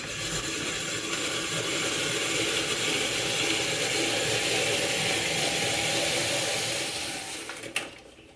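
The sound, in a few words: hand-cranked apple peeler, corer and slicer working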